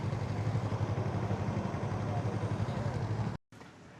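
A motorcycle engine idles steadily at close range after parking, a low continuous rumble that cuts out briefly near the end and returns quieter.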